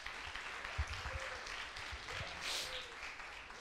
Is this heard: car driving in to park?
no